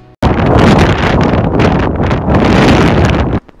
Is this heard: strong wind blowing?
yes